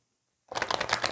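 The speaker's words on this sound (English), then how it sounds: "Just going to shuffle one more time." Quiet for a moment, then a rapid riffle of a tarot deck being shuffled, a dense flurry of soft papery clicks close by.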